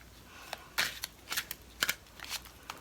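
Tarot cards being shuffled by hand give off several quick papery riffles and snaps, close and crisp against a quiet room, coming in short irregular bursts.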